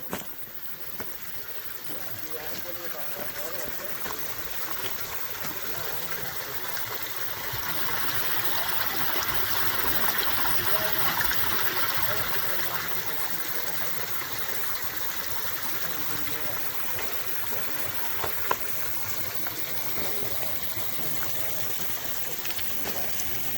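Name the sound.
Pine Creek stream flowing water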